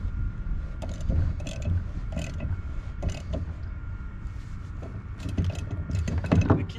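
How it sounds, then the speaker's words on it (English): A nut socket tightens nuts on a small drive-on assembly up close, giving irregular creaking, ratcheting and scraping sounds with a few louder metallic clacks toward the end. "simply pick it up and use my nut socket to tighten it"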